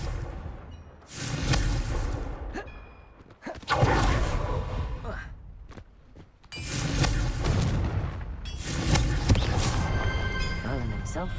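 Confringo fire spell blasts in Hogwarts Legacy, heavy roaring booms in long loud bursts that swell and cut off, several in succession.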